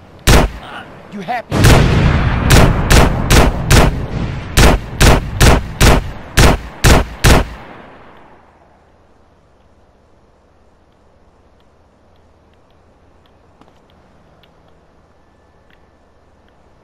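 A rapid series of about a dozen loud, evenly spaced gunshots in GTA San Andreas, right after a pizza parlor scene, then a sudden drop to quiet ambience. A voice briefly speaks.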